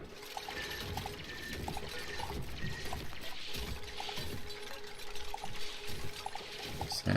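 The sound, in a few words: polluted water being dumped, from video game Oxygen Not Included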